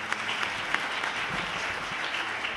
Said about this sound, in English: Please give him a hearty round of applause.